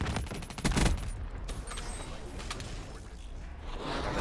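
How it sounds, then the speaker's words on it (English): Shotgun blasts ring out in a fast-paced video game firefight, with several sharp broadband bursts clustered near the start amid dense, continuous gunfire and game noise. "Shotgun. Not too bad."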